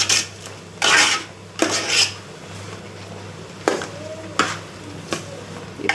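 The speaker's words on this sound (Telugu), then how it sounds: "కారం వేసాం కదా, ఇప్పుడు ఒకసారి కలుపుకుందాం" Chilli powder being stirred into dal curry in a pan: repeated rasping scrapes of a spoon against the metal, about six separate strokes over a low sizzle and a steady background hum.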